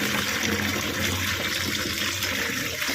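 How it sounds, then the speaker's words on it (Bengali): Water runs steadily from a tap while something is rinsed in a household kitchen, a continuous close splashing rush with no pauses or speech. "একবার ধুয়ে নিই।"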